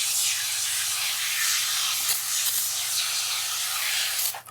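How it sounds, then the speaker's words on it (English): Degreasing fluid sprays steadily from a spray bottle onto model train parts, a continuous close hiss lasting several seconds before cutting off. "And just spray it on."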